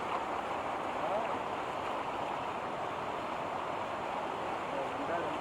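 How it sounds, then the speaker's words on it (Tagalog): Steady rushing of river water flowing outdoors, an even broadband wash that continues unbroken at moderate loudness. "Masarap dito sa ilog."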